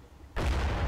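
Artillery bombardment on mortar positions in the Combat Mission: Red Thunder war game bursts in suddenly as a loud, dense roar of explosions after a quiet moment.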